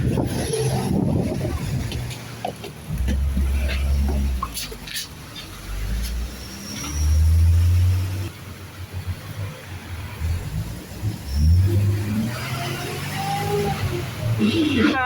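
A ten-baht city bus in Bangkok rumbles along with its engine running, low throbbing surges rising and falling under ongoing chatter and cabin noise throughout.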